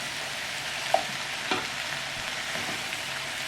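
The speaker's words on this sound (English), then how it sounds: "And so you just want to saute these up." Mushrooms sauteing in a pan for smothered catfish, a steady close sizzle throughout with a couple of soft utensil knocks and stirring scrapes.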